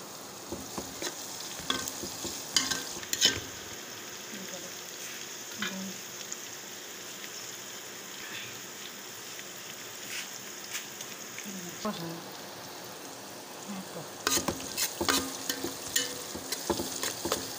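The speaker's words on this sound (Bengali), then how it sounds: "এবার আমি সুন্দর করে পেঁয়াজটা ভেজে নেব।" Chopped onions and small bay leaves frying in oil with panch phoron make a continuous crackling sizzle, broken by the scrape and clatter of a stirring spoon, louder near the end, with a voice talking at times.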